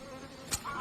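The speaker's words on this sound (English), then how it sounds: "is that just the noise of the wasp hitting the bowl?" A wasp in a bowl, a faint insect buzz followed by one short sharp tap as it strikes the bowl, then a thin high whine continuing afterward.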